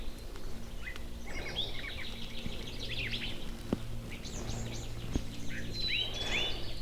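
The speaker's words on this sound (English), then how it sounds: "Boy, there are birds chirping like crazy out here though." Birds chirp in the woods, with several quick, high tweets and trills from different directions at moderate distance over a faint outdoor hum and a few soft knocks.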